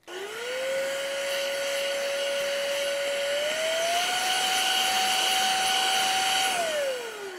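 Electric compressed-air duster spinning up with a rising whine, holding a steady high-pitched motor roar, stepping up in speed midway, then winding down at the end, loud and close.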